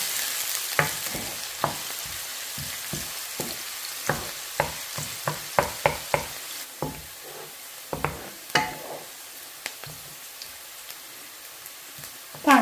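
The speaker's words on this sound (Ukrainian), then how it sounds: "Мечу туди цибулю, жарю її до світло золотистого кольору." Steady sizzling of onion frying in oil with frequent crackles and pops scattered throughout, close and continuous, with no talking.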